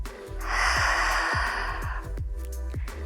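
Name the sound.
breathing during pilates exercise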